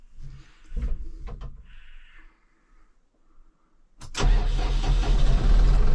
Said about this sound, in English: it's been a while since I've gotten this tractor, so I hope the battery's good